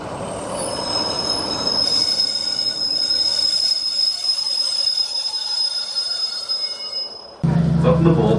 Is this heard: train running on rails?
yes